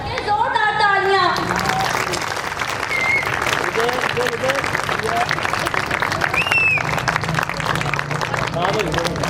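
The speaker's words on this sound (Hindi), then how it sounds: "जोरदार तालियां।" Loud, continuous applause from a standing school audience at an annual prize distribution, thick steady clapping from start to finish with some voices and crowd murmur mixed in.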